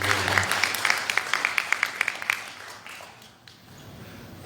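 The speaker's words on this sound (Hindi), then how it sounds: "धनानिया जी के लिए जरा ताली बजा।" An audience at a seminar applauds, a burst of claps that starts loud and then thins out into a few scattered claps before fading.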